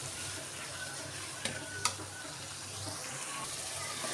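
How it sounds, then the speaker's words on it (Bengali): Half a kilo of chopped onion with turmeric is sautéed in a pan, giving a low continuous sizzle with a couple of sharp utensil clicks near the middle. "একটু ভালো করে কষিয়ে নিচ্ছি"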